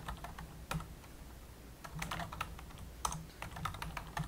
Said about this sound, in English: now I'm just typing those in and then arrowing back and forth on my keyboard